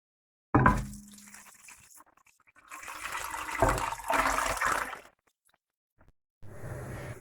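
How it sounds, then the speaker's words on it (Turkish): Water is poured into a pot of chopped tripe for soup, in short gushing bursts with brief pauses between them, splashing close by; a last softer pour follows after a gap. "Bir buçuk litre su ilave ederek yaklaşık bir saat pişiriyoruz."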